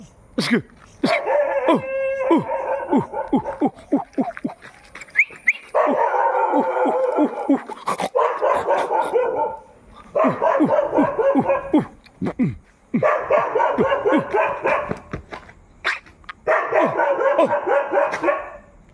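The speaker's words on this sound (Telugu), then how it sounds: "మమ్మల్ని చూసి కుక్క మురుగుతుంది అక్కడ." A nearby dog growls and snarls at night in long rough stretches, broken by sharp barks and yips. The bursts repeat several times with short pauses between.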